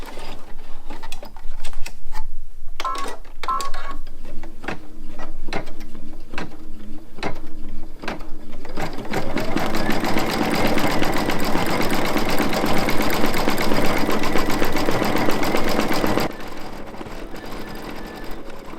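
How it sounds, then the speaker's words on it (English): An embroidery machine stitches blanket stitches around a fused appliqué bow: a steady, fast mechanical rattling of needle and gears, intermittent at first with short bursts, then continuous and loud for several seconds before easing off. "I'm returning to the machine to stitch the blanket stitches around the bow"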